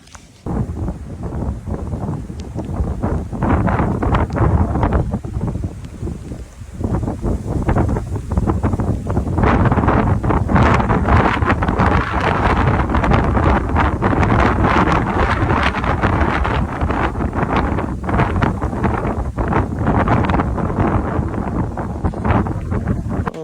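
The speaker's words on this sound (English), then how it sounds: "the wind is cycling pretty bad." Strong storm wind buffeting outside a yurt, a loud continuous roar with heavy gusts and microphone wind rumble throughout, steady and close with no speech.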